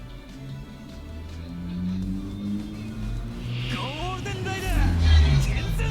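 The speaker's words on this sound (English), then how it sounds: "Wow, loud truck." A loud truck rumbles past outside, a low engine roar swelling toward the end beneath ongoing game sounds and talk.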